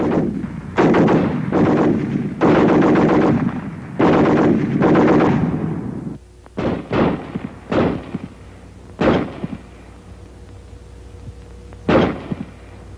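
A WWII Browning Automatic Rifle (BAR) fires loud, close bursts of automatic fire, several sustained volleys followed by shorter separated shots and single cracks with echoing tails, and no talking.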